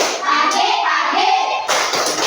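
An Indonesian school class claps a patterned 'tepuk selamat pagi' good-morning clap, with many hands striking in quick, close bursts and a brief pause before a final run of claps.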